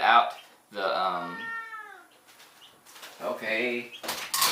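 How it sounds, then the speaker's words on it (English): A pet cat meows several times in long, wavering, rising-and-falling cries, close and fairly loud, with a person talking around the meows during a music lesson. "That's my cat, or Mac."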